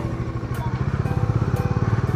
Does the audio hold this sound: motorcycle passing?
yes